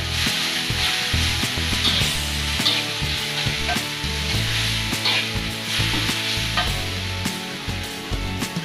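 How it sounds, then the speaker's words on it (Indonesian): Bay leaves sizzle in hot oil in a pan for beef tongseng while a utensil stirs and scrapes them in a steady, uneven rhythm over a constant frying crackle, close and loud. "Lalu masukkan daun salamnya. Aduk-aduk."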